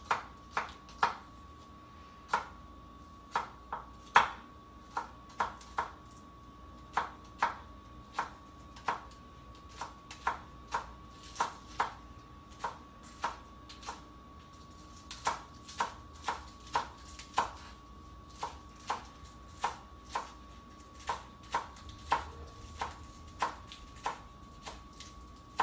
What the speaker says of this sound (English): Remove the roots and finely chop them.